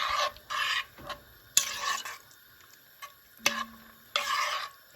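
Bamboo shoot curry made from canned bamboo shoots, Isan style, being stirred after ground rice goes in: a series of scraping, rasping strokes in a pot, several bursts separated by short pauses, close and fairly quiet, with no talking.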